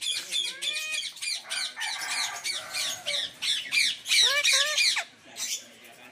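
Lovebirds at a game farm in Bauang, La Union: a rapid series of sharp, close squawks and chattering calls, bunched in bursts and fading off at the end.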